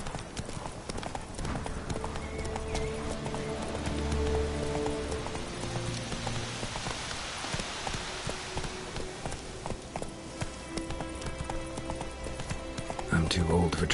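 Roach, the horse in the video game The Witcher 3, gallops with a steady clip-clop of hooves on the ground, set against ambient game music and rain-like texture while a voice talks over it.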